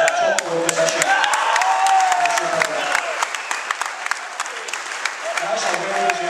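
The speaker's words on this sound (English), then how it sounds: "That's a well-deserved round of applause tonight." A roomful of guests applaud at the Clydebank FC player of the year awards night, a dense steady round of clapping with some cheering, while a voice talks over it near the microphone.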